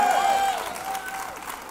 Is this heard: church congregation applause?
yes